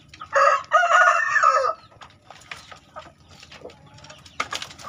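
On a chicken farm, a rooster crows loudly and close, followed by scattered clucking and soft fowl chatter in the background.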